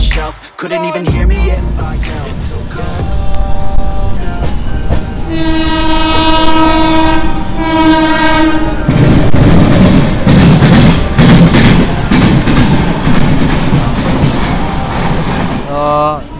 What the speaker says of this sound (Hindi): ये अहमदाबाद की लोकल ट्रेन